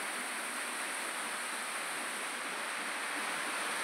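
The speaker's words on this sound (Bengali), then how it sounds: "টিন ফুটো হয়ে সব জল পড়ছে।" Rainwater pours and drips through holes in a leaking tin roof during the monsoon, heard as a continuous dense hiss of falling water that stays even throughout with no distinct individual drops.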